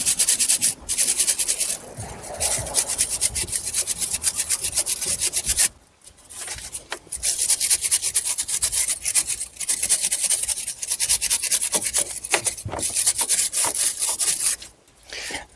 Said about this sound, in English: we'll clean this up with a wire brush